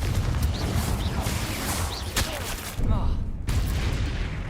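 Confringo fire spell blasts in Hogwarts Legacy, several sharp fiery bursts and crackling booms in quick succession amid battle noise, with a voice talking over the action.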